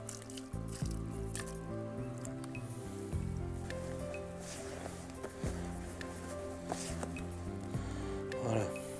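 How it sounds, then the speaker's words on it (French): Wet fishing groundbait for nase, mixed for the bolognese method, is worked and squeezed by hand, giving close, continuous squelching and wet squishing with small drips and irregular soft slaps throughout. "on travaille bien l'amorce pour bien la mélanger"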